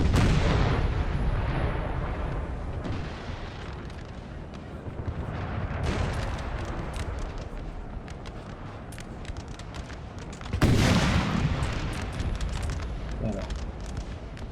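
Artillery in a Napoleon: Total War battle, with Wuttemberg's guns pounding Austrian forces: a continuous rumbling din of cannon fire, swelling into heavy booms near the middle and end, with voices faint beneath.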